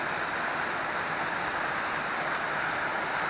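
A small waterfall along the Bartram Trail in the mountains roars as a steady, dense broadband rush, close and continuous with no pauses or voices.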